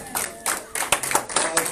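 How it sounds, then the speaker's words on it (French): A church congregation gives a short burst of scattered clapping during worship, a few sharp claps standing out under some voices. "Est-ce qu'on peut applaudir la parole?"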